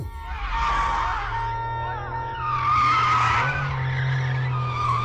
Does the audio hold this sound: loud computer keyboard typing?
no